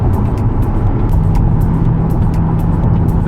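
A 2024 Corvette E-Ray hybrid convertible rolls on wide tires, filling the cabin with a loud, steady roar of engine and road noise, with faint repeated ticks above it.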